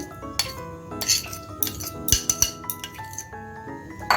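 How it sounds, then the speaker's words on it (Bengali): Mango puree is worked through a sieve into a bowl, producing irregular, close-up metallic clinks and scrapes with soft wet squishes between them and no talking. "এখন আমের পিউরিটাকে আমি ছেঁকে নিচ্ছি"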